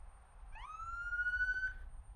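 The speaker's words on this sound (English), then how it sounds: "Just hearing a bit of a police siren in the background there." Police car siren wails briefly at a distance, a single rising tone that holds and fades, faint and alone against a low background rumble.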